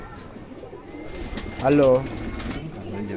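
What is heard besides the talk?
pigeon cooing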